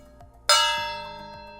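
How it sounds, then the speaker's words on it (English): A gong struck once, undamped, giving a sudden loud, bright metallic crash that rings on with a shimmering, slowly fading sustain. "Here we have a gong that obviously makes a lot of noise."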